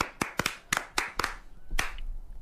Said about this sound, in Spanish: Aplaude conmigo.